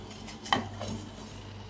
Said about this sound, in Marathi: एक वाटी घेतलेली आहे, त्यामध्ये आता हे आपण डार्क चॉकलेट टाकून देऊया आणि पातेल्यावर ठेवून देऊया